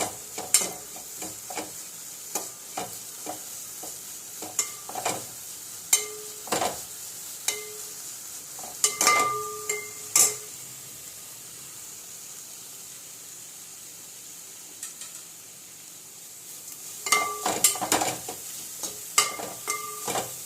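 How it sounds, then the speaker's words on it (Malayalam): Washed prawns frying in a pan over low heat: a soft, even background sizzle broken by frequent sharp clinks and scrapes of a spatula against the pan. "ആദ്യം ചെമ്മീൻ കഴുകി വറുത്തെടുക്കുക"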